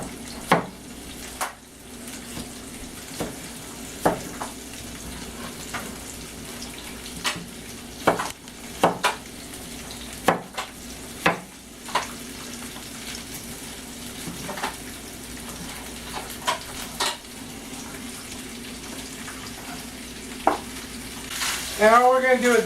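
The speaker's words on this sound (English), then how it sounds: "I'm just going to saute that." Food sautéing and sizzling in a hot pan, a steady frying hiss running throughout, broken by occasional sharp clanks and scrapes of stirring, with a brief rising squeal near the end.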